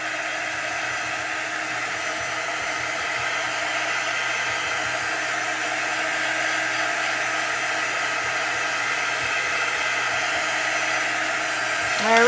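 A hair dryer blows steadily up close to dry chalk paste on a stenciled nest design, a loud continuous whooshing whine that barely changes throughout and has no talking over it.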